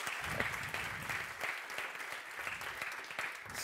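Audience applause at a talk on legal deposit of electronic materials, steady and moderately loud, with dense, even clapping that runs throughout without voices over it.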